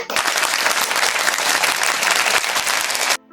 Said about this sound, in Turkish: Bir alkış gelsin.